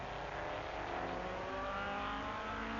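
A Sunbeam Tiger race car at speed on the Mulsanne straight during an endurance race, its engine a steady, loud, continuous roar with no pauses.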